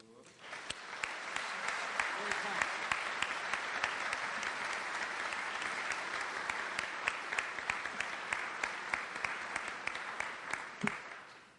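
An audience gives sustained applause for General Martin Dempsey, loud crowd clapping that builds quickly, holds steady for about ten seconds with scattered sharper claps, then tapers off.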